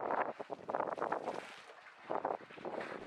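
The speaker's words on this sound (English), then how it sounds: "you can see that the wind has picked up considerably" Wind buffeting outdoors on a hot day near a pool where elephants drink, heard as loud gusting rumbles that surge and ease with no voices.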